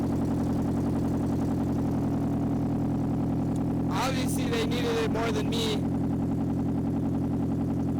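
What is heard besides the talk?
BMW car engine idling loudly after catalytic converter theft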